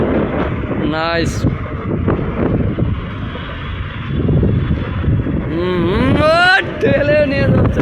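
Strong open-air wind buffets the microphone with a continuous low roar and gusty rumble while people shout and talk over it.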